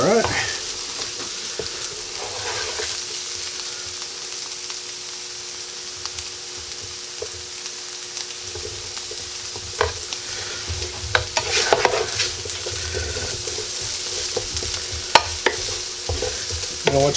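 Potatoes for home fries frying in a pan, a steady crackling sizzle with occasional spatula scrapes and taps, close by, with a louder burst of stirring late on.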